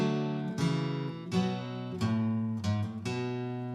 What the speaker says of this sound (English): we could learn how to play that bass guitar riff on the guitar using some chords